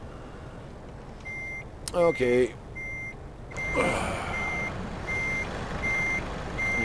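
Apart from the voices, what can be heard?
truck reversing backup beepers in video game Euro Truck Simulator 2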